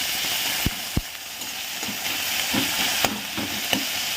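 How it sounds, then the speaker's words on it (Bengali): Tomato fries with dry chilli and mustard-seed tempering in a pan, a constant close sizzle and hiss broken by a few sharp clicks of a spatula stirring. "এদিকে হচ্ছে টমেটো ভাজা মানে শুকনো লঙ্কা আর সর্ষে ফোড়ন দিয়ে টমেটোটাকে দিয়ে দিয়েছি"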